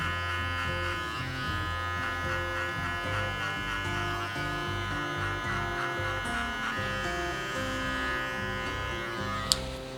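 Electric hair clipper running without a guard during a mid-bald fade haircut, a steady close buzz holding for the full stretch with a brief sharp click near the end.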